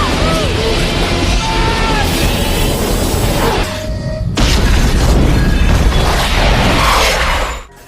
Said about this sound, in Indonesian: ledakan pun menghancurkan sebagian isi ruangan.